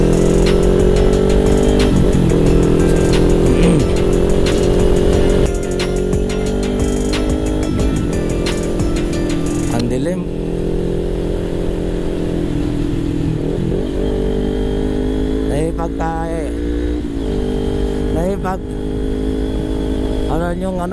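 A motorcycle engine drones loudly and close for the whole stretch, rising and easing in pitch while riding on a road in Samar, with someone talking over it.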